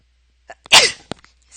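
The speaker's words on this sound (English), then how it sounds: "Ooh, but I want to sneeze." A single loud, close sneeze from a person, a short sharp burst in an otherwise quiet moment with a faint breath before it.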